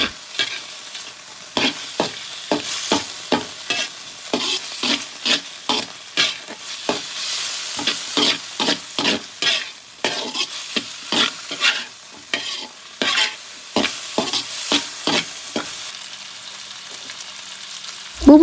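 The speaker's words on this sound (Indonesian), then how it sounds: "Sekarang kita masukkan bawang dan juga cabenya. Kita oseng bersamaan dengan ayam." Steady sizzling in a hot pan as chicken stir-fries with shallots and chili, with rhythmic spatula scrapes and stirring strokes, repeated many times at an even pace, close by and without talk.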